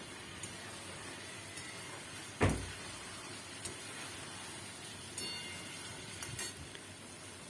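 Fried fish pieces drop with a soft thump into cooked spice paste in a pan for a thin Bengali fish curry with potatoes, followed by a faint steady hiss of sizzling and a few light clinks, with no talking.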